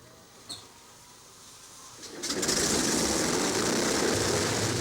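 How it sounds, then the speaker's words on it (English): A 29-ton bomber's propeller engines start up one by one, first faint clicks and whine, then an engine catching and swelling into a loud, steady roar that continues to the end. "As the engines start, one by one, the long litany of pre-takeoff checks begins."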